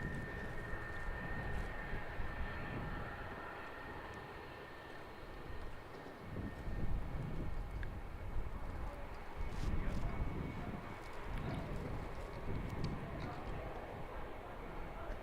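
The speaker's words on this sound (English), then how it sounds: "We've got a Dunedin Auckland Jetstar overhead." Jetstar airliner on a Dunedin to Auckland flight passing overhead near Christchurch Airport, New Zealand: a steady, broad rumbling roar runs throughout and swells slightly midway, with faint voices beneath it.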